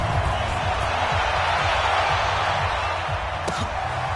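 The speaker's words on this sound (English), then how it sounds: "this crowd is pumped up as their Redskins get set to match up with Aaron Rodgers and the Green Bay Packers" A stadium crowd at a football video game, Redskins hosting Aaron Rodgers and the Green Bay Packers: a dense, steady roar of cheering filling the space throughout, with low rhythmic thumps underneath and one brief sharp accent near the end.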